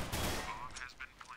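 Gunfire in the video game Counter-Strike: Global Offensive, fired during a smoke, opens with a loud sharp blast that tails off, followed by fainter shots and clatter as a voice talks over it.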